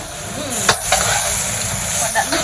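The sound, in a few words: cabbage stir-frying on high heat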